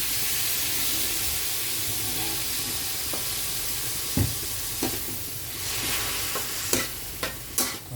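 Soy sauce poured into pansit noodles frying in a pan, giving a steady loud sizzle and hiss, with scattered clinks and scrapes of stirring toward the end.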